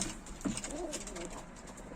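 Pigeons in a balcony loft coo softly nearby, a couple of low throaty burbles over a faint background hum, with no one speaking.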